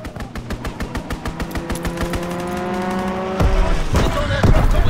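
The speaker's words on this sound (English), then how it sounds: "Enemy strafing run incoming." A burst of rapid, evenly spaced gunfire from an enemy aircraft strafing run in Call of Duty WWII, sharp repeated shots giving way to a louder rumbling roar with game voices over it.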